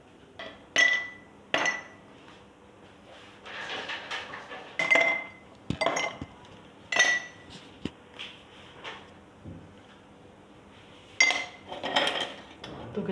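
Glasses and utensils clinking as watermelon juice is poured and served into glasses in a home kitchen, with sharp intermittent chinks and taps separated by quiet pauses.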